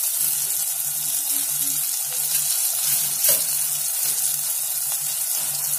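Turmeric and coriander powder sizzle in hot oil with chilli paste for a brinjal stir-fry, a steady close frying hiss broken by a few stirring scrapes and one louder clatter, with no one speaking.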